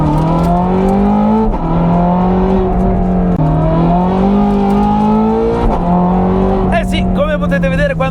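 A Ferrari 430 Scuderia engine screams loudly from inside the car as it accelerates hard with traction controls off, the rising revs climbing through gears with brief dips at each shift.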